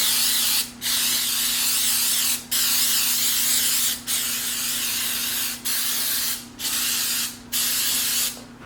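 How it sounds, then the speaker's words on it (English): Repeated bursts of cooking spray hiss steadily into muffin tins, each lasting about a second or more, separated by brief pauses, close and loud. "make sure that you spray these really well so that they don't stick"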